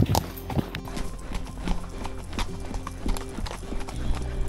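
Horse hooves clip-clopping on a trail during endurance race training, a close, steady rhythm of repeated hoof strikes throughout, with a faint voice in the background.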